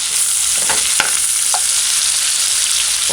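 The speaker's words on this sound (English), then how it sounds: "That was 3 minutes of frying with the stoves on 6, which is like medium high." Bacon and onions fry on a stove set to medium-high for ackee and bacon, a loud, constant sizzle with a few stirring clinks and scrapes.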